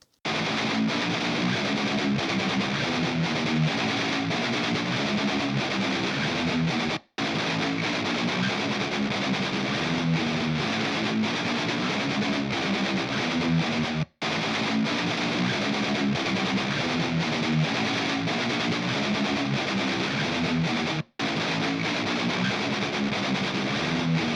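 Continuous loud, distorted electric guitar playing through an amp, harsh and gritty, repeated in three near-identical passages separated by brief cuts.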